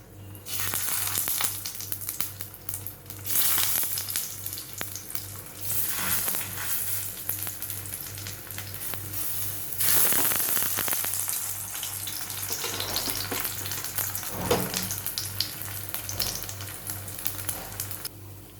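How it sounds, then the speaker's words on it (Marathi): Aloo tikki potato patties shallow frying in oil in a pan, a steady crackling sizzle that swells and dips with occasional clinks and stirring sounds, continuing for a long stretch without talk. "ह्या आपण यामध्ये सोडणार आहोत आणि आपल्याला शॅलो फ्राय करून घ्यायचे आहेत."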